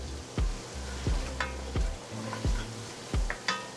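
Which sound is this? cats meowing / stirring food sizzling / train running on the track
stirring food sizzling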